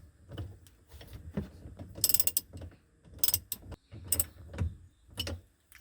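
A ratchet tightens a battery terminal nut on a Toyota RAV4 during a hitch wiring harness installation, giving several close bursts of quick clicking strokes with short pauses between them.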